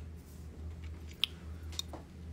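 Someone chews a crunchy chocolate snack up close, giving two quick, crisp crunches over a quiet background hum.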